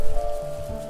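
Steady rain pours at night in the video game The First Tree, a continuous soft hiss of falling water over a low hum, with no voices.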